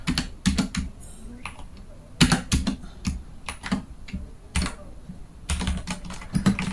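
Computer keyboard typing while Python code is entered: quick irregular bursts of crisp key clicks, close and clear, with short pauses between runs.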